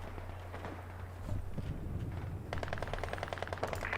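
Machine gun fire in the video game Company of Heroes 2, first distant and quieter, then a rapid, sharper rattling burst takes over for the last part of the clip.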